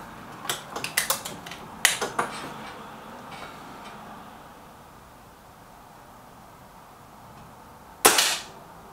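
An air rifle is fired at a target: a run of light clicks and handling taps early on, a long quiet stretch, then one sharp, loud crack of the shot near the end.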